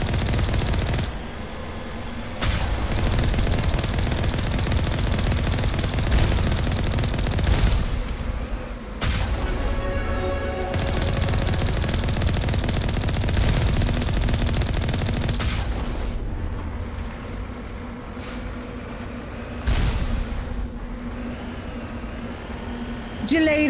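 Enemy gunfire in Mass Effect Legendary Edition crackles in steady bursts for most of the stretch, with heavy booms and a dense continuous din, partly underneath a talking voice.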